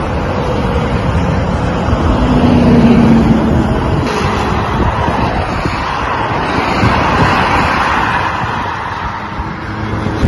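Heavy holiday traffic flows along the TEM motorway near Bolu heading toward Ankara, a steady broad roar of many vehicles passing with a brief low engine drone standing out early on, continuous and fairly loud throughout.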